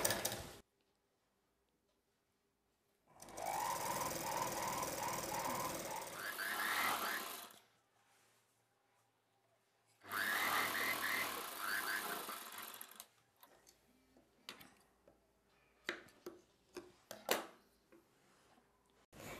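Sewing machine stitching a folded hem on a dress, two long bursts of rapid mechanical whirring separated by quiet, followed by scattered clicks and handling knocks, close up.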